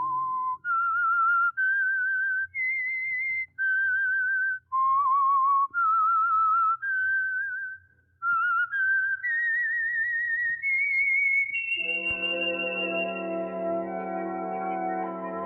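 A lone whistled melody, the theme of The Whistler radio program, rising and falling in clear phrases with a touch of echo, before a full band swells in to carry the tune at the end.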